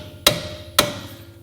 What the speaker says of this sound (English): And you can take a hammer